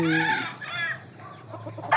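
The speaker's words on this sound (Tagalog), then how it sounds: "Mga ordinary lang manok to." A rooster crows close by on a farm in Sibulan, Negros Oriental, followed by chickens clucking and a second brief call near the end.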